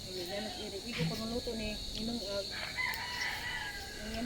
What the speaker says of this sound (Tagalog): Magtuwa pa man sa manok.